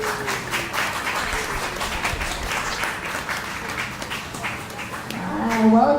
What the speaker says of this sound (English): Please give a big round of applause, ladies and gentlemen.